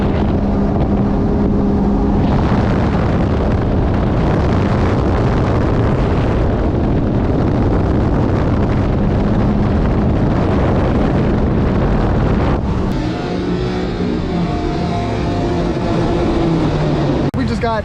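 A Sea-Doo RXP-X 325 jet ski running at top speed with its speed limiter removed, the engine roaring loud and steady under heavy wind buffeting, the pitch shifting slightly near the end.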